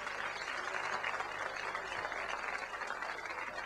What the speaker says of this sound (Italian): Un applauso per Sormani.